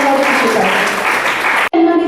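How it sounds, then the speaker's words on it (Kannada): An audience applauds loudly at an annual alumni gathering, a dense clapping wash mixed with an amplified voice, briefly cut off near the end before resuming. "ಜೋರಾಗಿ ಚಪ್ಪಾಳೆ ಹಾಕಿ"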